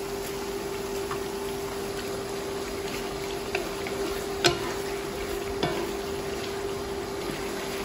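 Pork intestines being stir-fried in a wok of spicy hotpot base with Sichuan peppercorns and red chili oil give a steady sizzle, broken by a few sharp scraping clicks of the stirring spatula. No one speaks.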